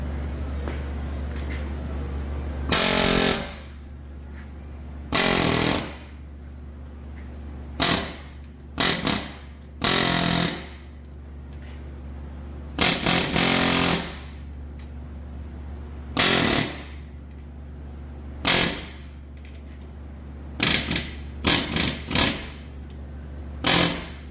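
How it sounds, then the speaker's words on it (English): Air hammer rattling at bolts on an abandoned Chevy 350 engine, firing in about a dozen short, loud bursts with quiet gaps between, close by over a faint steady hum. "Go ahead and air hammer some of these bolts, because some of them on this side look pretty bad."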